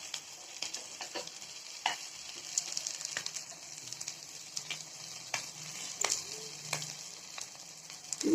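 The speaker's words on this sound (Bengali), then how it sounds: "এই যে আমাদের মাছ ফ্রাই এখন হয়ে গেছে, দেখবেন ভাজা হয়ে গেছে" Hilsa fish fries in oil, a continuous close sizzle broken by frequent sharp clicks and scrapes from stirring and turning the pieces.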